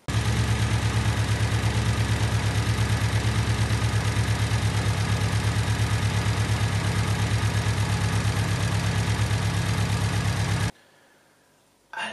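A car engine leaking coolant between cylinder head and block idles steadily with a low, even rumble for about ten seconds, then cuts out abruptly into near silence.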